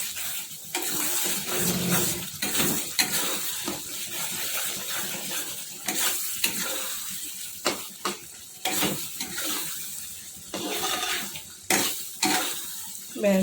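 Garam masala and ghee are stirred into a simmering prawn malai curry in a pan, repeated spoon scrapes and clinks over a soft bubbling sizzle.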